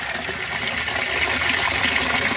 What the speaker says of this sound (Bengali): দেখুন কী হারে নোংরা জল পড়ছে